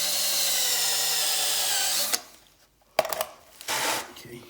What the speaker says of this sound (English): I'll drill about 8 more holes here